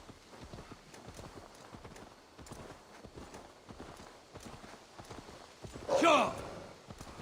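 Horse hooves clip-clopping at a walking pace in the video game Assassin's Creed Valhalla, a steady soft patter running under continuous talk, with a brief louder burst near the end.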